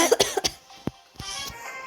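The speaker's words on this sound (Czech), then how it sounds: "Jo, mám kašel," A person coughs several times in quick succession, close and fairly loud, followed by a couple of softer throat-clearing coughs after a short pause.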